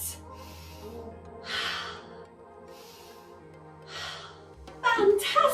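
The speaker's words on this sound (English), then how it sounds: "Big breaths." In a children's dance class, a group takes big audible breaths, several soft whooshing inhales and exhales spaced a second or so apart, followed by a louder breathy rush at the end.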